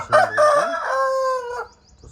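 A Kagvar Pettamar rooster crows once, close and loud, a long harmonic call that rises, holds, then trails off into quiet.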